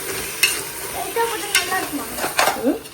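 Curd mixed by hand in a bowl for raita, spoon scraping and clinking in short close strokes over a faint background hiss, no speech.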